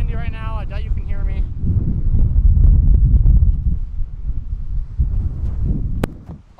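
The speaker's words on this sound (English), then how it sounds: "Probably really windy right now." Heavy wind buffets the microphone in a steady low roar on a camping trip, with a brief voice near the start and a sharp click near the end.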